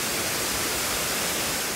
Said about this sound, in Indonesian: Air yang keluar bentuknya mirip tirai atau kelambu, makanya dikasih nama air terjun Benang Kelambu.